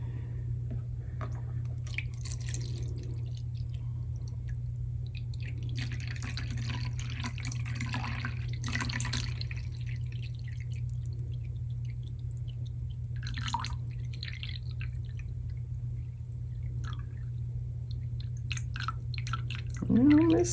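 Distilled water is poured into a container sitting on a kitchen scale, giving soft, intermittent dripping and trickling sounds over a steady low hum, faint and close.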